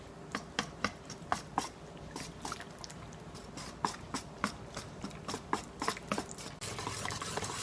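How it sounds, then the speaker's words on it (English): Spoon stirring pumpkin pie filling with coconut milk and spices in a bowl, a run of sharp, irregular taps and scrapes against the side, close and fairly quiet, ending in a steadier wet mixing hiss. "I'm just going to mix everything together until it's well blended"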